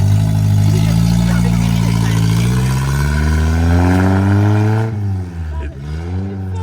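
A loud, raw engine roar from a 1990s car running with no exhaust fitted, revving and shifting pitch steadily, then dipping and wavering near the end.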